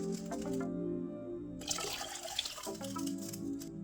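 Water pours steadily into a medium pot on the stove while a lemon and chicken stock wait nearby, a continuous splashing fill with a brief surge midway.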